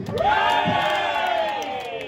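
Supporters at the 2023 SANFL League Grand Final player presentation roar and cheer together, a dense sustained wall of shouting and whooping that stays loud and close for the whole stretch.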